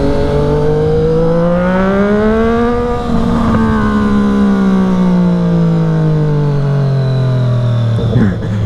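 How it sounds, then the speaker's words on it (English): A Triumph Street Triple RS motorcycle engine, loud and close, rising and falling in pitch as it revs, then dropping lower through a downshift near the end. "I'm gonna downshift now because it sounds so good"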